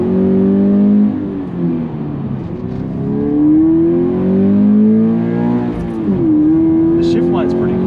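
A 2020 Subaru BRZ Limited with the performance pack revs hard while climbing a hill, its engine note rising steadily and dropping with each downshift, heard loud and close from inside the cabin.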